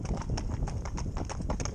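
Gypsy Cob horses pulling in tandem trot with steady, rapid clip-clopping hooves, loud and close throughout and with no voices.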